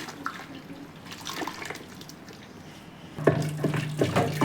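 Water is poured and mixed into a pot of cooked saag greens, giving a soft wet sloshing that turns into louder splashing and stirring near the end, with no talking.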